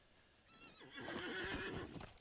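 A horse in the online game LOTRO lets out a single short neigh, a rising then wavering whinny with faint hoof clops. Quiet and alone.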